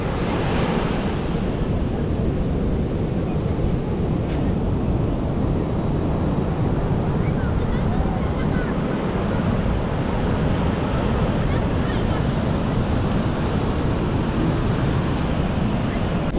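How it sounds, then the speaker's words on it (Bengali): Rough morning surf at Puri beach rolls and breaks continuously, a dense steady roar of churning waves mixed with wind buffeting the microphone, with no voices heard. "দেখুন উত্তাল হয়ে রয়েছে সমুদ্র।"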